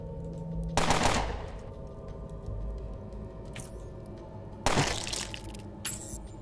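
Two sharp, loud gunshot bursts ring out in the game Underrail, one near the start and another a few seconds later, each with a short shattering decay over low background noise.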